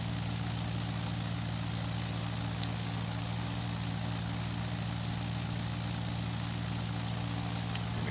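Steady drone of a Cessna 170 light airplane's propeller engine in flight, loud and unchanging, heard from inside the cabin with no talk.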